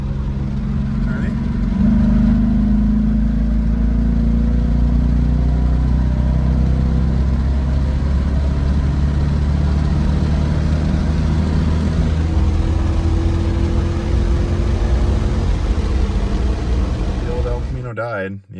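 A 1984 El Camino with a swapped 5.3 engine drones steadily and loud while cruising, its pitch climbing gradually as it revs under load, then cutting off abruptly near the end.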